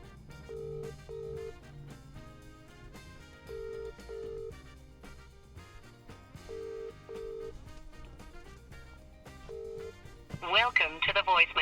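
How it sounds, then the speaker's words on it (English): A phone call rings out over a telephone line, with repeated ringback tones in a regular pattern, followed near the end by a louder burst of an automated voicemail greeting. "I'm gonna call her now and see if she's gonna pick up."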